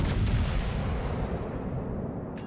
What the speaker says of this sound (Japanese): お次は島に刺さってるタリンを砲撃します